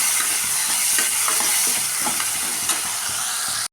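Tomatoes are mashed in a hot pan during village-style cooking, with repeated soft squelching stirs and pressing strokes over a continuous sizzle and hiss.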